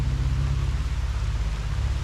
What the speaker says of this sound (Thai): ก็เสียดายที่ฝนตกนะครับ